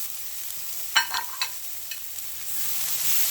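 Vegetables stir-frying in a pan with garlic powder for vegetarian fried rice, a soft steady sizzle broken by a few sharp scrapes and clatters as they are tossed around, with the frying growing louder toward the end.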